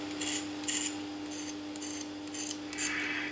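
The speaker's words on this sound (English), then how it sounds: "both sides of that sound pretty quiet when you drag a knife across" A knife blade dragged across sanded automotive body putty gives several short, quiet scraping rasps in an uneven rhythm over a steady low background hum, with no voices.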